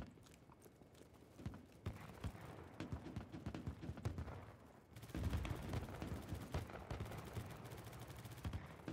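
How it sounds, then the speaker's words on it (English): Rapid bursts of gunfire crackle through a BattleBit Remastered match, with sharp repeated shots and bullets snapping past in uneven clusters, mid-distance and fairly loud, with no talking. "I heard bullets fly by"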